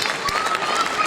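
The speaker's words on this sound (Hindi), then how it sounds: "उनके लिए भी जोरदार तालियां" An audience at the Rasrang Mahotsav 2023 cultural festival breaking into brisk, continuous clapping, heard briefly under someone speaking over a microphone.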